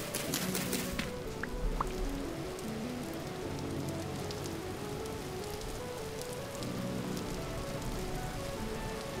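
Steady rain falling outdoors, a dense close patter of drops on surfaces, with a few louder knocks near the start and a faint low rumble underneath.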